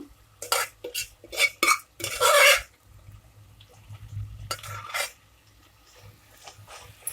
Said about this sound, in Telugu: ఒకసారి కలుపుతున్నాము